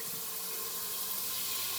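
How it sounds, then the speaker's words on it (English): Cold water running from a kitchen tap, a steady close hiss and splash that continues without a break. "I'm going to run some cold water,"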